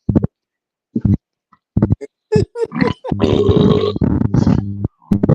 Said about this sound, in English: I know you guys can't stand the burping thing